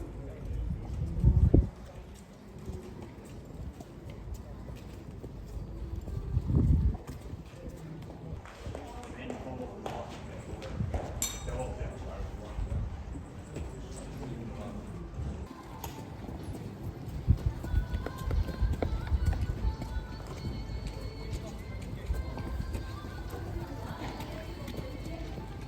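Horses are walked around the saddling stalls at Newcastle Racecourse before a race. Scattered hoof clops and shuffling stand out in a few louder bursts over a continuous murmur of background activity.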